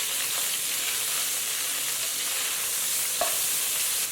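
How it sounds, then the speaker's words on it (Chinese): Minced pork and chopped ginger sizzle and crackle in hot oil in a wok, with scraping stirs and a sharp spatula clack near the end, close and steady. "炒出猪肉的香味"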